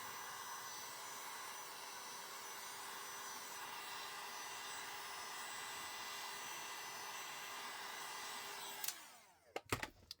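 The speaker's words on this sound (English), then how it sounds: "So now we're going to run the heat gun over them one more time." A heat gun run over glittery snow-globe-style resin ornaments blows with a steady, close whooshing whir for several seconds, then cuts off, followed by a few sharp clicks and knocks.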